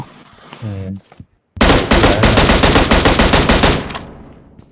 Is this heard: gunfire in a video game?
yes